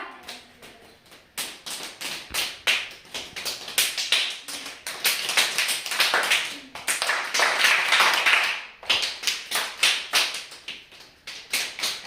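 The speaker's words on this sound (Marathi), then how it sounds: "तुमच्यासाठी पाऊस टाळी" Children perform a rain clap, a pattern of rapid light claps and taps that starts soft, swells into a dense patter like heavy rain, then thins out again, repeated over several seconds.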